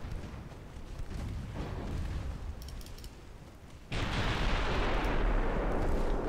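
Battleship guns fire in a naval video game set in a Japanese campaign with dreadnoughts, first as a rolling rumble of distant salvos, then a sudden loud blast near the middle that booms and roars on to the end.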